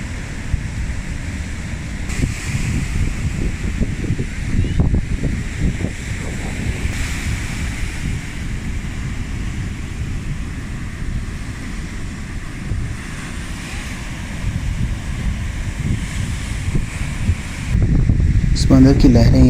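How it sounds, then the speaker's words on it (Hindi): Atlantic Ocean waves surge and crash against the seawall below the Hassan II Mosque in Casablanca, a steady broadband roar with wind buffeting the microphone, surging louder near the end. "समंदर की लहरें यहाँ से टकरा के तो बाहर आ जाती हैं।"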